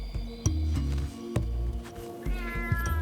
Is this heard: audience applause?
no